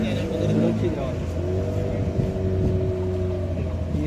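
A motor boat engine drones loud and steady on a sea trip out to islands and rocks, with a low rumbling tone and a slowly shifting pitch, and voices talk over it.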